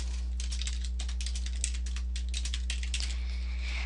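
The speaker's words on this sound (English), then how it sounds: "If I were to type these three words" Typing on a computer keyboard in a word processing program: a steady run of close, rapid key taps against a constant low electrical hum.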